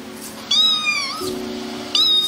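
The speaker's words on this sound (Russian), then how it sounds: "еще один котенок мяукает" A kitten meows twice, clear, high, drawn-out cries close by with a short pause between them, over a steady low hum.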